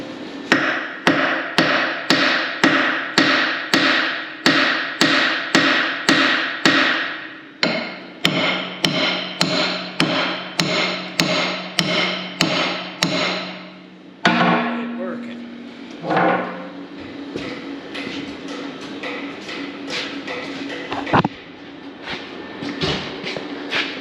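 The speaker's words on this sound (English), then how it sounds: "Maybe I can do it with a small hammer" A small hammer whacking bolts off a truck frame, around twenty loud, evenly spaced metallic blows close by, followed by quieter scraping and a couple of scattered knocks at the end.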